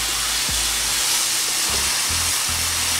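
Steak frying on a hot surface, a steady loud hiss and sizzle of steam filling the whole span, with low rumbling thumps underneath and no talking.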